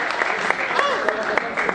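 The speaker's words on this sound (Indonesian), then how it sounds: "Tepuk tangan dulu untuk Anda semua." An audience claps together at a student exam-motivation training session, a dense, even patter of many hands sustained throughout, with voices mixed in beneath the applause.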